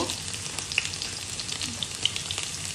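Garlic and dried chilli temper in hot oil for dal, a steady close sizzle with small pops and crackles, with no voices.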